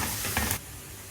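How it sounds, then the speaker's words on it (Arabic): Onion and grated carrot fry in ghee in a pan, a close, steady sizzle and hiss that suddenly drops to a quieter simmer partway through the short moment. "نجيب طاسه هنحط فيها سمنه والبصله ونقلبها لحد ما تحمر"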